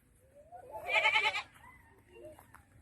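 A single goat bleats on a farm, one clear, wavering cry close by, with quiet rustling before and faint sounds after.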